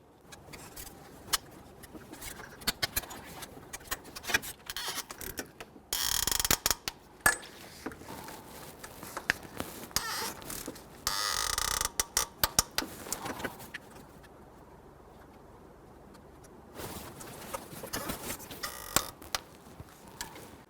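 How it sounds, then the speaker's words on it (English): Torque wrench tightening the AC compressor bolts on a 2006-2012 Toyota RAV4 3.5L V6: intermittent ratcheting clicks and metallic rattles, with bursts of denser mechanical noise and quieter gaps, close and moderately faint. "Going to torque down our 4 AC compressor bolts to 18 foot-pounds."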